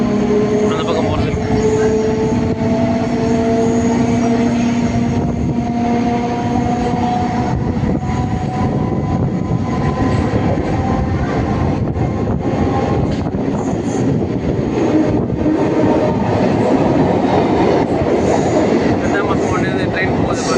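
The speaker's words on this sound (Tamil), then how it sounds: "ட்ரெயின் போகுது பாருங்க, மேலே பீச்சுக்கு வெள்ளச்சேரி வழியா." An MRTS suburban train runs past on the elevated line through Velachery toward Beach in Chennai, a steady rumbling roll with wheel clatter and faint squeal that holds throughout.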